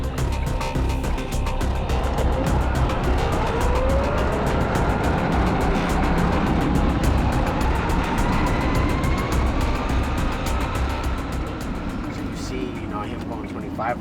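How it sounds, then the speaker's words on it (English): A fast car passes along a wet, slick road, its engine and tyre roar rising and falling steadily over about fourteen seconds, loud and close, with continuous broadband road noise throughout. "Should be clear after that fast car."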